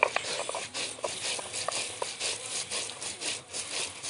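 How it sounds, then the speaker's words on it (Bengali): Cumin and mustard seeds ground together by hand on a stone, giving a steady rasping, sawing rub with repeated back-and-forth strokes, close and fairly quiet, with no voices. "জিরে আর সরষে একসাথে ঘষে নেব।"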